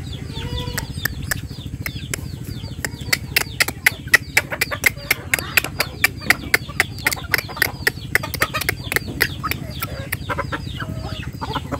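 Chickens, a rooster and chicks clucking while being fed rice: a busy stream of clucks and sharp pecking ticks over a low background murmur, close by, with occasional faint talk.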